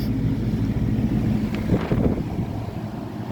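A 1974 Kmart model P-48 fan motor runs at high speed, drawing 2.8 amps, producing a steady close whirring drone with a brief gusty rush of air in the middle.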